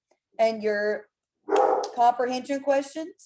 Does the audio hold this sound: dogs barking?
yes